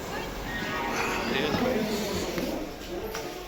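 Inside a brand-new coach of the Amrit Bharat Express running from Howrah to Varanasi on its first commercial run, a steady rumbling train noise under continuous nearby talking.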